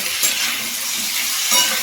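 Potatoes with salt and turmeric sizzle in a pan as they are stirred, a short burst of bright frying hiss with a couple of louder scraping moments.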